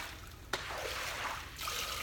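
Water pushed across a winery floor drains into a slot drain, a soft trickling and gurgling flow with a brief knock near the start, fairly quiet and steady throughout.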